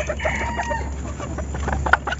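Labuyo jungle fowl at a bantam farm clucking in short, scattered calls over steady background noise, with one sharper call standing out near the end.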